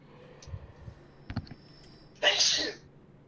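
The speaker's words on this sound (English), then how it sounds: "I forgot that I needed to sneeze directly into the mic." A single loud, sharp sneeze bursts close into a microphone after a few faint clicks and quiet breaths, ending abruptly with no speech around it.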